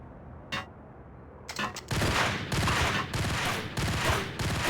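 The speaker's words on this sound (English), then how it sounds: "Someone threw a grenade." Grenade blasts and loud combat noise in the shooter game Max Payne, with a couple of sharp bursts followed by sustained, rumbling, broadband detonations and debris that roll on in repeated swells.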